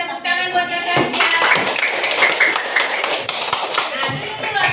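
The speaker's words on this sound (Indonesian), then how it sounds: "tepuk tangan buat Natasha" A classroom group claps for a student named Natasha, a ragged patter of hands beneath ongoing voices and chatter throughout.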